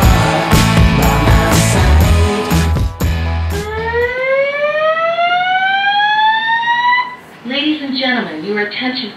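A loud electronic alarm in Las Vegas sweeps upward in a rising wail after a burst of clattering noise, then breaks into a warbling tone.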